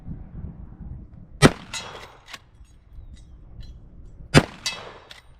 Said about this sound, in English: we're gonna throw a couple of subsonics downrange.